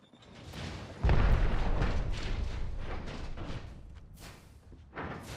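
An arc star grenade detonates in Apex Legends: a heavy, close boom hits sharply about a second in, followed by a rumbling, gradually fading tail and a smaller burst near the end.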